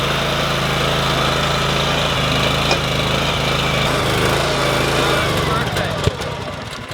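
A motorized garden plow digging new garden beds in rock-hard soil drones loudly and steadily close by, with a low rhythmic engine throb that falters and drops away near the end.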